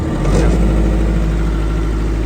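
Used Denyo 45 kVA diesel generator engine idling, imported from Japan, producing a loud, steady low hum and mechanical whir with no change in pace and no talk over it.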